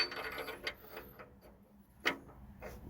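A Jeep oxygen sensor breaks loose under an oxygen sensor socket with faint clicking and ratcheting ticks, a sharper crack standing out near the end amid quiet surroundings.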